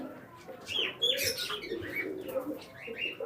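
Flying-breed pigeons offered at a pigeon sale coo softly and call in short overlapping bursts, fairly faint and close, with a brief flutter of wings.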